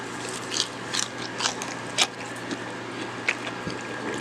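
Crisp, sharp crunches from someone biting into an air-fried chicken wing, several distinct bites spaced about half a second apart over low background noise.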